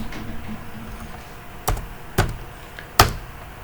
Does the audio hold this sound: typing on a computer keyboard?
yes